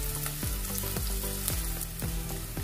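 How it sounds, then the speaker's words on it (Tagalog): Onion, garlic and ginger sauté in a hot pan as the base for sweet and sour shrimp, giving a steady sizzle with soft rhythmic scraping from stirring at close range. "Nagigisa na natin yung sibuyas, bawang at saka luya."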